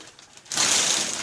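Crinkly wrapping paper torn and rustled off a vintage vacuum coffee pot from an antique store, a faint rustle swelling into a loud, steady crackling close by.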